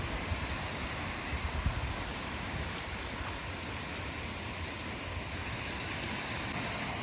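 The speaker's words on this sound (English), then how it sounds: "we're now to the beach" Waves wash onto the beach at Joseph Whidbey State Park on Whidbey Island, Washington, a soft, steady surf rush heard from a short distance with no voices over it.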